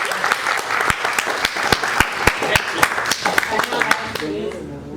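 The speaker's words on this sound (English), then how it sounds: "Okay, clapping." Students in a classroom clap for a classmate, a burst of loud, sharp handclaps coming fast and uneven near the listener before fading out, with a voice talking over the end.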